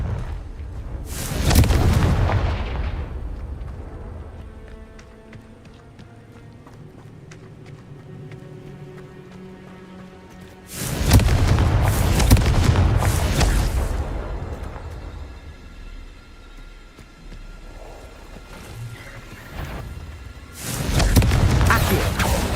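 Confringo spell explosions in the Hogwarts Legacy video game, three separate loud blasts with rumbling, debris-filled tails spaced several seconds apart, quieter game ambience and faint voices between them.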